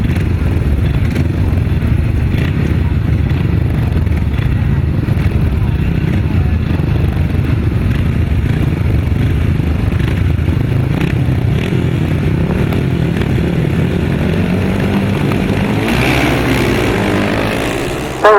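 Grasstrack racing motorcycles roar off the start line together, a loud, dense engine drone sustained throughout with no break, swelling slightly near the end.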